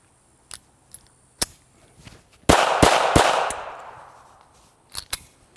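A Kel-Tec P380 red frame pistol fired from inside a pocket gives one loud sharp shot with a long fading echo, and small clicks and handling knocks come before and after it.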